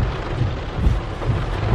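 A heavy outdoor rain downpour makes a dense, steady roar with low rumbling and wind buffeting on the microphone, continuous and loud with no voices.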